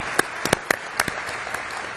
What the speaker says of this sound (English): I'll clap.